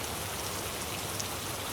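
Rain comes down steadily in a dense, even hiss that fills the whole moment without a break. A few faint drops stand out now and then, and no voice is heard.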